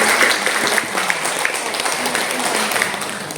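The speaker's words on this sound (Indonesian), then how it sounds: "kita beri aplaus yang meriah lebih dahulu" Enthusiastic applause from a gathering of Catholic women at an evening recollection in Purwokerto, a steady clapping wash lasting throughout, with some speech mixed in.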